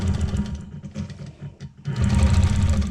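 A quilting sewing machine with a worn needle stitches in quick rhythmic bursts, a buzzing mechanical whir that stops briefly, then resumes louder and steadier.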